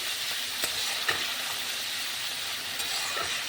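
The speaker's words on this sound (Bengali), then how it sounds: "কচু শাক রান্না হবে আজকে মশলা কষে একটু ভালো করে" Spice paste being sautéed and stirred in a pan before taro leaves go in, a steady close sizzle with a few light clicks of the spoon against the pan.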